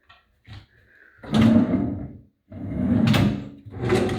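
Kitchen drawers being pulled open and pushed shut during a bond clean, several distinct wooden slides and knocks close by, separated by short quiet gaps, with no talking.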